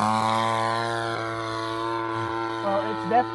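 Seagull Models Vans RV-8 radio-control plane with a DLE 20cc gas engine running at full throttle in flight, a steady loud buzzing drone with strong harmonics and slight pitch wavers throughout.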